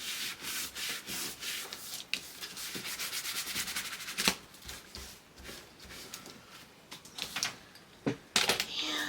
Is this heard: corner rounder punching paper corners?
yes